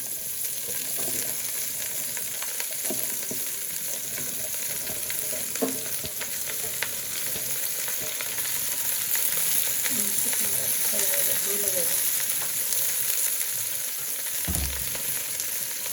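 Vegetables fry in sunflower oil with a constant loud, close sizzle that swells slightly midway, broken by occasional soft stirring sounds and no speech.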